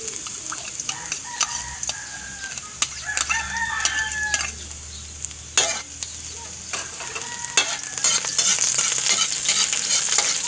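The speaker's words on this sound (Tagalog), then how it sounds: "Pag mainit na guys, lagay natin ng bawang." Garlic frying in hot oil for lumpiang shanghai, a light crackling sizzle with repeated clicks and taps of a utensil against the pan, while a rooster crows faintly in the background.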